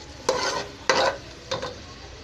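Garlic, onion and tomato are stirred in an oily pan, with three distinct scraping strokes spaced evenly over a soft sizzle, close and fairly loud.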